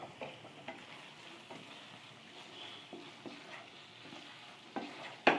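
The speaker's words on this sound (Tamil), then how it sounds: "நல்லா கலந்து விட்டுக்கணும்." Paneer cubes stirred into a frying pan gravy with a steady low sizzle, punctuated by scrapes and clinks of a spoon against the pan, close and moderately quiet, no one talking.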